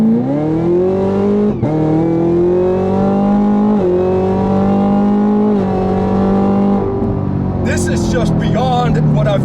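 A 2017 Chevrolet Camaro ZL1 accelerates hard, its loud exhaust roaring up through the gears with rising pitch and brief dips at each shift, close and dominant, with a chirping squeal near the end.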